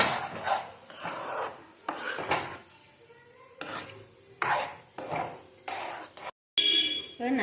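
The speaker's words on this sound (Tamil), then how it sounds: "சிம்மில் வச்சுட்டு கிண்டிக்கிட்டே இருங்க நல்லா." White kesari being stirred with a spoon in a pan on low flame: repeated scraping and rubbing strokes in an uneven rhythm, close by, with a brief break near the end.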